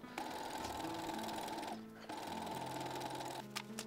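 A sewing machine runs gathering stitches through skirt fabric for a 1950s-inspired Christmas dress, with two long, steady, close whirring runs separated by a brief pause.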